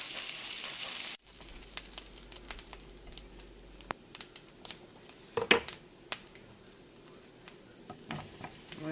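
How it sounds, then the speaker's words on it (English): Mushrooms and onions sizzle in a large frying pan after a brief loud hiss at the start, then settle into a soft, steady crackle with scattered pops and light clinks, no voices. "I'm going to throw my mushrooms and onions in with that."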